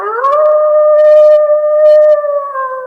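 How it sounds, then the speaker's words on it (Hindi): Jackals howl in a long, sustained, wavering cry that rises at the start and holds steady for about three seconds. The sound is loud and close, set in an eerie haunted-island scene. "अब हर तरफ से सियारों के रोने की आवाजें इनको सुनाई दे रही थी।"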